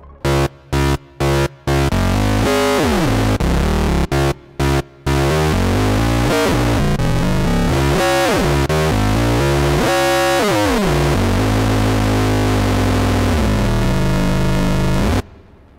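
An Uno Synth Pro analog synth tone with a metallic, clangorous ring-modulated timbre from a constant-frequency sine oscillator, its pitch gliding and stepping, starting with short stuttering bursts then sustained.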